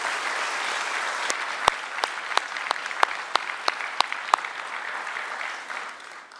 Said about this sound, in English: make sure you give them a round of applause for everything they've done for you